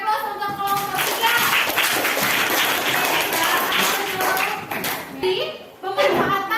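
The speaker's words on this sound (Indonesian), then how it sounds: "beri aplaus untuk kelompok 3" An audience in a classroom claps for a student group presenting, a steady burst of applause lasting several seconds with voices chattering underneath, then tapering off briefly before a few more claps.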